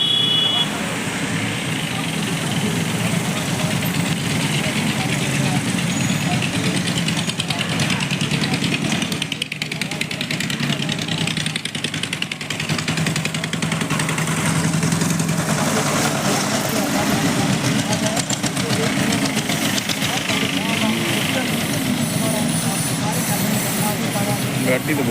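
Vehicles idle at a political road show rally in Rania, a loud continuous engine rumble blended with dense crowd chatter and voices throughout.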